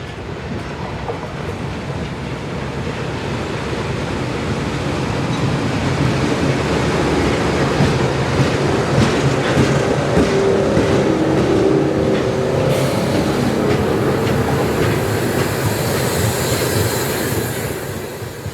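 CSX freight train L790 rolling past in Miami, a loud, sustained rumble with rhythmic wheel clatter that swells as the cars pass close by, then eases slightly toward the end, with no talking.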